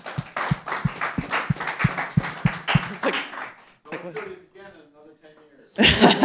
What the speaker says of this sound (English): I would want everyone to give each other a round of applause.